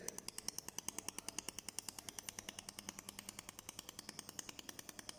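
The rotary fixture of a 400W laser welding machine turns with a fast, even train of sharp mechanical clicks, about eight per second. It is faint and steady, with no talking.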